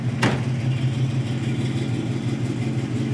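A 1968 Chevrolet Camaro engine idling with a deep, steady exhaust rumble close by, marked by one sharp click near the start.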